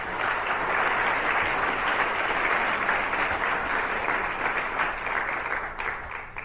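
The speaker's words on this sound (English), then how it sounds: "can I please have a round of applause for Richard Dutton?" An audience at a medical lecture on trauma resuscitation gives steady, fairly close applause, even clapping that carries on and begins to thin toward the end.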